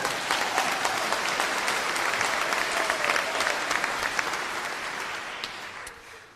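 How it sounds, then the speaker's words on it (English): An audience at a charity Christmas celebration claps in a sustained round of applause, dense and moderately loud, gradually fading toward the end. "that deserves a round of applause"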